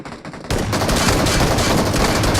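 Rapid gunfire from an online shooter video game bursts in loud and dense after a short quieter lead-in, then keeps going as continuous automatic fire to the end.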